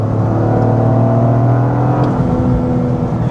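Toyota GR Corolla with its 300-horsepower three-cylinder engine revs hard, a loud, steady, close-up drone that holds a constant throbbing pitch the whole way through.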